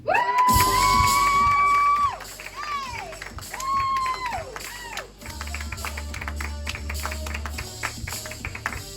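Comedy club crowd cheering and applauding as a comedian is welcomed to the stage, with loud whoops over music at first, then steady clapping and chatter as talk continues over it.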